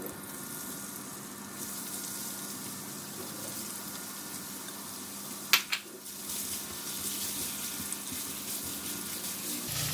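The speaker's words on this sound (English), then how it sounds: "We will fry the ginger until crispy" Ginger sliced for fried tilapia crackles in hot oil in a pan, a soft steady sizzle throughout with a brief clatter midway, fairly quiet and with no talk.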